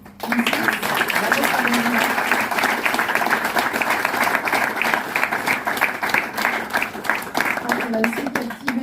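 Audience at a literary event applauds warmly, sustained clapping from a room of listeners with a voice speaking faintly at the start and end.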